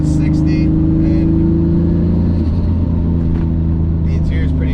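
BMW E34 accelerating under turbo boost, a loud steady engine drone from inside the cabin with a tonal whine that shifts partway through, while someone talks over it.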